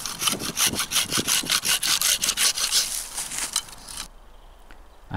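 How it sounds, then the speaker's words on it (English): A pruning saw cuts through willow poles near the stump in the garden, with quick rhythmic back-and-forth rasping strokes, close and loud, stopping abruptly near the end into quiet. "I then saw these closer to the stump with a pruning saw."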